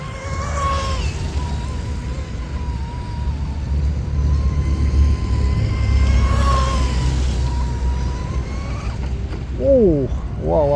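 A DIY M500 Mini Mono RC boat on a 3S or 4S battery runs below full throttle, its motor a steady, droning whine over rushing water that swells and fades. Voices can be heard faintly nearby.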